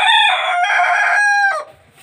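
A black rooster crows once, loud and close, in a single sustained cock-a-doodle-doo that fades out after about a second and a half, with no other sounds around it.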